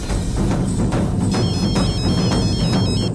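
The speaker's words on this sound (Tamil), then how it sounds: "உள்ள உள்ள இருந்து போன் சவுண்ட் கேக்குது" A mobile phone rings from inside a house, its melodic ringtone tones emerging after about a second and repeating over a loud, dense background.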